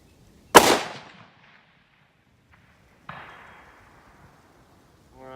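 A Tikka TAC A1 rifle fires one sharp, loud shot that decays quickly; about two and a half seconds later a fainter metallic ring follows as the round strikes a distant steel target.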